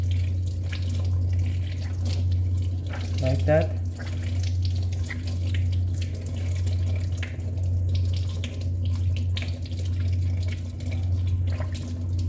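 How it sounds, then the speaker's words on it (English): Water from a tap runs steadily into a sink as hands are rinsed during handwashing, a continuous hiss and splash beneath a person talking, with brief dripping clatter. "you have to rinse your hands with water"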